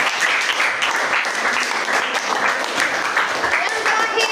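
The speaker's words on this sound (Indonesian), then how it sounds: "tepuk tangan buat kelompok 1" A classroom of students applauds a group after their presentation, dense and steady clapping held at an even level throughout.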